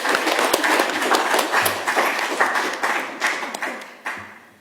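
An audience applauds a poet at a spoken-word event: dense, sustained clapping from a room of people that holds steady, then thins and tapers off into scattered claps near the end.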